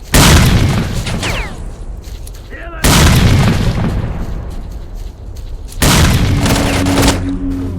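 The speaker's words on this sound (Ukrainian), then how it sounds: "Граната! Лежи!" Grenade blasts in the shooter game S.T.A.L.K.E.R.: Call of Pripyat: three loud, deep booms at roughly three-second intervals, each rumbling and decaying slowly before the next.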